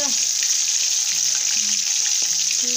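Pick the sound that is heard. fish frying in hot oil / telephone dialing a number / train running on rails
fish frying in hot oil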